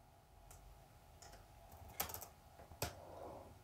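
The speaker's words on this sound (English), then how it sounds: "type in the amount" Computer keyboard keys are tapped to enter a payment amount in accounting software, a few soft, scattered clicks with two sharper presses near the end, quiet and close, with no talk.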